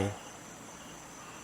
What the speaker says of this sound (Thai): เสียงจิ้งหรีดจักจันเลไลเสียงกบร้องธรรมชาติดีมากเลย